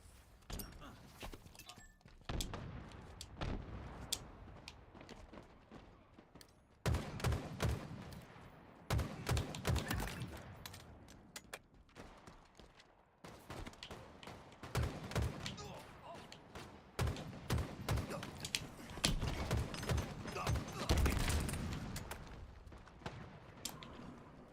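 Gunfire and grenade blasts in a first-person shooter jump map, bursts of shots and heavy thuds recurring through the clip, with players talking over the action.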